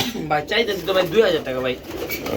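A pair of racing pigeons coo close by in short, rolling, throaty bursts, with people talking alongside.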